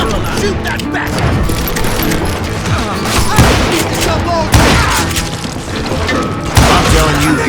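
Dense gunfire from many shooters in the Western video game Call of Juarez: Gunslinger, rapid overlapping shots and thuds throughout, loud and busy, with sharper blasts standing out.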